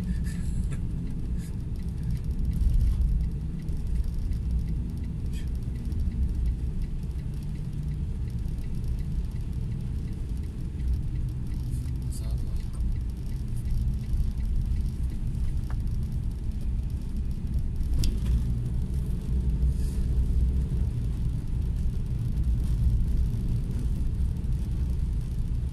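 A car drives through stormy, rough weather with a steady low rumble and whir from the road and engine that continues without a break, with occasional faint knocks and no talking.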